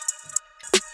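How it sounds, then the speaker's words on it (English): A short electronic snare hit rings out sharply near the end, after a couple of faint ticking clicks, crisp and bright with a quick decay. "Let me show you the full snare."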